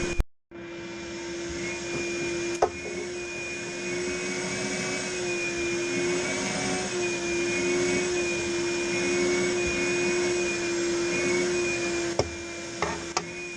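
A torch heats a brake line fitting on a Jeep TJ, producing a steady, close, roaring hiss with a faint whine that runs almost unbroken, with a couple of small knocks and no talk.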